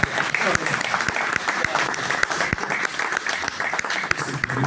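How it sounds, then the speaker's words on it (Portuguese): An audience at a CoimbraBD 2025 presentation claps for Ricardo, brisk, dense applause with distinct sharp individual claps running throughout, fairly close and steady. "Palmas para o Ricardo, se faz favor."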